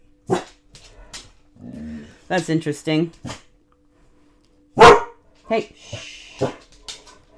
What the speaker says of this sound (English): my dog is growling